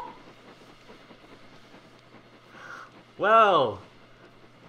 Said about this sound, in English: the steam train was right there